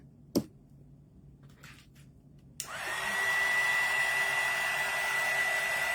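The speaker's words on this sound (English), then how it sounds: "I am going to hit them with the dryer real quick just to make sure before we glue them around." After a sharp click and a few faint rustles, a hair dryer switches on to dry small painted mini Jenga blocks, rising into a steady, moderately loud whirring hiss with a thin high whine.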